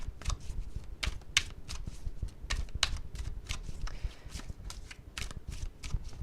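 Tarot cards are shuffled close up in quick, crisp riffling bursts, a steady run of sharp papery flutters repeating throughout.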